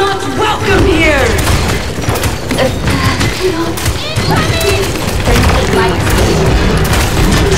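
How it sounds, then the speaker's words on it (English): Gunfire and explosive booms in the game Paladins, a dense, loud barrage of shots and thumps running almost continuously, with in-game voices mixed in. "Shooting."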